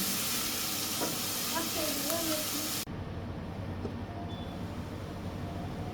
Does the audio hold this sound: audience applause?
no